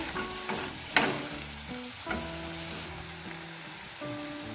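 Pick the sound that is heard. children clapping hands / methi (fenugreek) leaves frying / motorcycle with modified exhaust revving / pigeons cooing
methi (fenugreek) leaves frying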